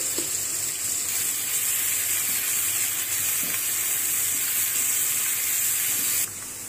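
Onions frying in oil in a pot before meat is cooked, giving a dense, even hiss and sizzle with light crackling throughout, dropping slightly in level near the end.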